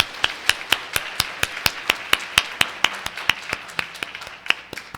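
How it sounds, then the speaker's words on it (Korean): Christmas congregation at a Wednesday church service clapping in steady, unison rhythm, about four sharp claps per second, close and fairly loud, with no voices over it. "예수님께 영광의 박수 올려드립시다"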